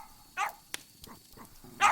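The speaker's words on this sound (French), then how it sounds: "J'espère que les chiens ne vous dérangent pas." Young dogs bark indoors, a few short, separate yaps spread out over a quiet room, with the last bark the loudest.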